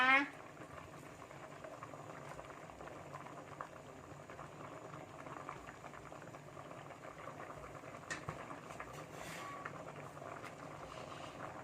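A pot of Thai jungle curry with catfish bubbles at a steady simmer, a low continuous gurgle with a faint hum, heard quietly and close.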